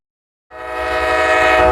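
Empty freight trash train 12T entering a rail yard near Birmingham, Alabama, sounds a loud, sustained horn blast that starts abruptly after brief silence and holds steady.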